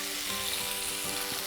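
Pieces of creamy Tuscan chicken in a hot pan give off a loud, continuous sizzle and crackle as they are turned, close and steady with no talking.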